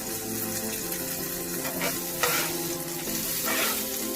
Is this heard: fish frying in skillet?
yes